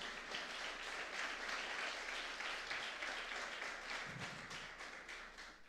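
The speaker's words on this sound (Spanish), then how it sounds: "¿Cuánto le da un aplauso fuerte a Dios?" A church congregation applauds during a Sunday family-day service, a steady wash of clapping that sounds distant and faint, fading slightly toward the end.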